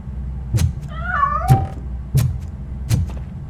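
A cat meows once in the video game Robocop Rogue City, a clear rising-and-falling cry set among four dull, evenly spaced thuds over a low background hum.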